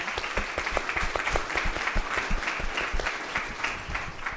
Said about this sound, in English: So can we have a quick round of applause for these three amazing women?